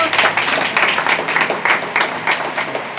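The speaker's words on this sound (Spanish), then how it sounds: "¿Cuántos pueden aplaudir al Señor?" A church congregation applauds during a sermon, dense overlapping handclaps forming a steady, loud wash with rhythmic pulses, close and sustained throughout.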